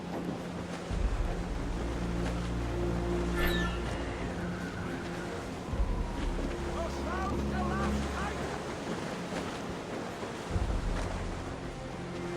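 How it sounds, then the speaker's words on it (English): Howling storm wind and heavy sea wash surge around a sailing ship in Assassin's Creed Rogue, a steady low roar with gusts and creaking, music and shouted crew voices mixed in over the whole stretch. "Wind's getting vicious."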